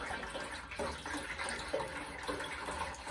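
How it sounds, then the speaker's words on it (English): Water pours into the water jacket of a Maxant honey bottling tank, a steady, close splashing and gurgling stream that shifts slightly as the level rises, with no talk over it. "So you just put the water in like this."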